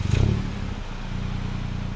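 A 2016 MINI Cooper Clubman's turbocharged 1.5-liter three-cylinder engine starts with a short starter crank and a brief loud rev flare, then drops into a steady, low, throbbing idle heard up close without talk.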